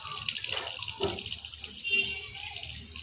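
Water runs steadily from a tap into a tub, a continuous close hiss and splash lasting the whole moment with little change.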